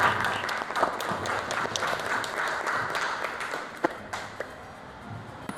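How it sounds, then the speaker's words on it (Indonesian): Classroom of students clapping together, a dense, steady patter of many hands close by that fades slightly toward the end, with a few sharper individual claps standing out. "Berikan tepuk tangan."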